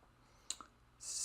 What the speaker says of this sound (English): So there's clacks.